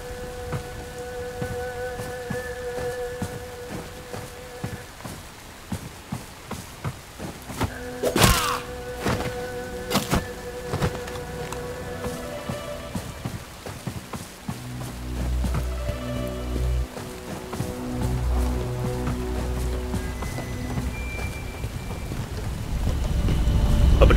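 Rain falls steadily in the Bright Memory Infinite video game, broken by a sharp crack of thunder and a later low rumbling roll that swells toward the end, with no voices.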